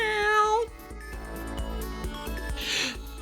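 A person on a livestream imitates a cat with a single drawn-out, rising-then-falling meow, followed by quieter background sounds.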